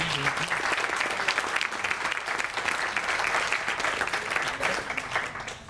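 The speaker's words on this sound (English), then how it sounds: "So let's give them all a round of applause." Guests at a graduation dinner give a sustained round of applause, many hands clapping in a dense, even roar that carries on for several seconds with only slight swells and no talking over it.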